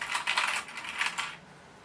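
A sewing machine runs at a steady clip while stitching the base panel onto a fabric drawstring project bag, a brief close rattling whir with no voices.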